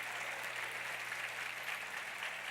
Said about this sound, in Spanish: quiero que la congregación me los reciba con un fuerte aplauso a todos ustedes